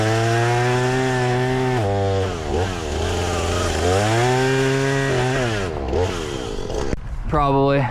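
A chainsaw cutting wood on a 4x4 trail closure roars close by, its engine pitch swooping up and down in repeated revs as it bites and eases off, running continuously throughout.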